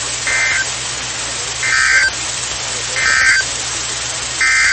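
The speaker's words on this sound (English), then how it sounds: "This has been a test of the NOAA weather radio warning alarm device." A NOAA weather radio warning alarm test sounds as a loud, steady tone in four repeated bursts of roughly half a second each, evenly spaced over a continuous hiss of broadcast static.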